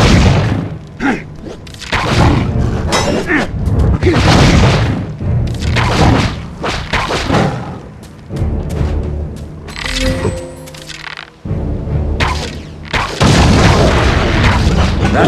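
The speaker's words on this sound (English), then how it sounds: "Saruman's forces move strange explosive devices through this town. Help us destroy them. Watch out for the explosives!" Explosive devices blowing up in The Lord of the Rings: The Two Towers video game, a long series of loud booming blasts and heavy thuds, one after another, with crashing debris between them.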